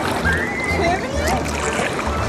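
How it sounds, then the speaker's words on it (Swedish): Waves sloshing and splashing against the side of a kayak on open water, a continuous churning wash heard close up while people talk and exclaim over it. "Oh my god, vågor från sidan."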